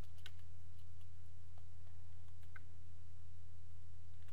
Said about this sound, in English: So I will type ESXi